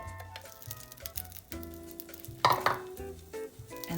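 Onions and garlic sauté in olive oil over medium heat, giving a soft, continuous sizzle with stirring scrapes and a sharp pan clatter midway, over a low humming background tone.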